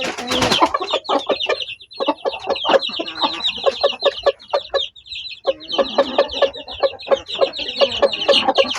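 Several chickens cluck and squawk close by, a busy overlapping stream of short calls with brief pauses.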